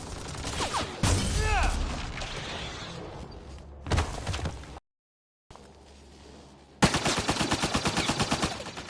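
Gunfire in Mass Effect Andromeda bursts out in loud rapid volleys, with a brief dropout of silence midway and a quick rhythmic string of shots at the end, mixed with shouting voices and combat noise.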